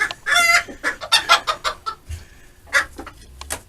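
Hen clucking in a homestead coop alongside other chickens, a rapid run of loud, close clucks and squawks in uneven bursts, with no talk.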